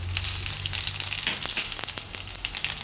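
Cumin seeds crackle and sizzle in hot oil in a pan for a Gujarati onion-potato curry, a loud, steady frying hiss with scattered pops and no voices.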